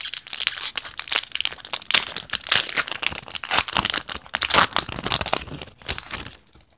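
A Magic: The Gathering Hour of Devastation booster pack wrapper is torn and crinkled open, giving a close, loud run of crackling plastic rustles and tears for several seconds with no talking.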